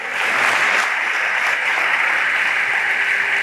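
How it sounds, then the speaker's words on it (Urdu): A church congregation claps loudly and steadily, a dense wash of applause that holds without a break from start to finish. "زوردار تالیاں بجائیں"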